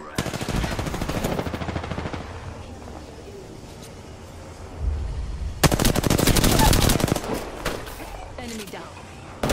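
Bursts of automatic gunfire in the battle royale shooter Apex Legends, sporadic shots early, then a loud dense volley mid-clip, with voice chat underneath.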